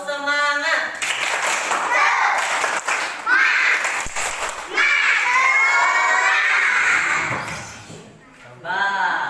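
Schoolchildren in a classroom chant and shout together while clapping in a rhythmic spirit-clap routine, their loud voices rising in bursts with short pauses between rounds.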